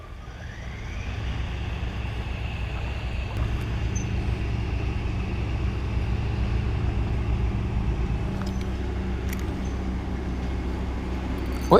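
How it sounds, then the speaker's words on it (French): A tractor engine runs close by at a trout fishing spot, a loud, steady low rumble that holds without a break from start to finish. "désolé pour le son, il y a un tracteur à côté"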